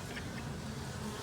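Honey bees buzz steadily and close by as they crowd over fondant laid out as winter feed, a dense, continuous droning hum with no voices.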